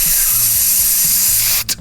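Spray can hissing in one loud, continuous burst for about a second and a half, with a low hum underneath, then ending in a short final puff.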